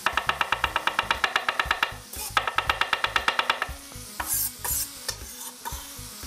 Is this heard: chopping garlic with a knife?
yes